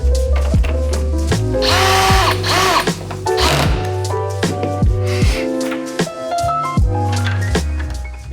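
A power drill set to low torque whirs close up in repeated bursts, its pitch rising and dropping as it reinstalls screws on a Jeep Gladiator JT tailgate, with brief pauses between runs.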